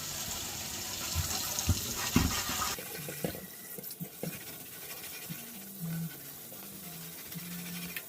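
Water runs steadily from a tap onto cast iron to dilute and rinse off lye, a broad rushing hiss for the first few seconds that then cuts off, leaving scraping, clanks and quieter handling sounds.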